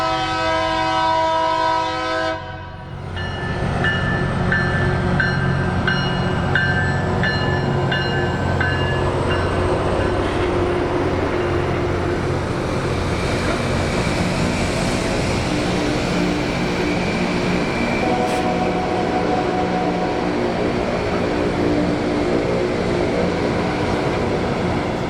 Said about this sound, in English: The rail grinder also made an appearance back home on the Harrisburg line.